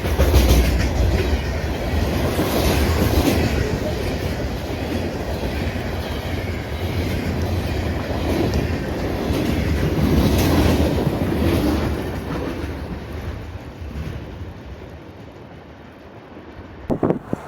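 A CSX freight train led by GE GEVO locomotives with a mid-train DPU rolls past close by, a loud continuous rumble with clickety-clack of wheels and wind buffeting the microphone, fading slightly toward the end.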